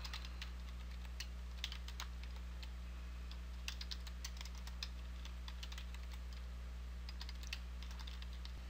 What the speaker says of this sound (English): We type in our email, and then we type it in again